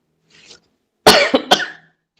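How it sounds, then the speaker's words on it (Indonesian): A single person coughs sharply, two or three quick close bursts after a faint breath, alone with no talk. "Batuk."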